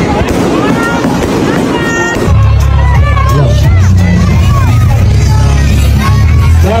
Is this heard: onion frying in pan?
no